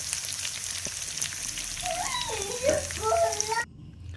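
Garlic and ginger frying in oil for chicken pickle, a soft steady sizzle close by with faint stirring, a few brief tonal squeaks near the end before the sound cuts off abruptly.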